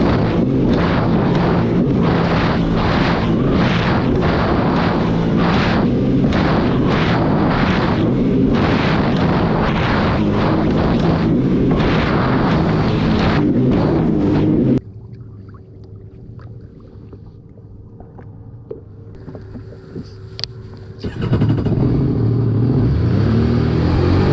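A loud jet ski engine roars steadily with wind and water noise while riding offshore, then cuts to a quieter stretch before the engine noise returns.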